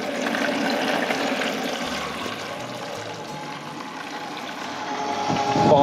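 A vinegar and water mixture pours into a cup as a continuous rushing, splashing flow, steady and fairly loud for several seconds, swelling slightly at the end.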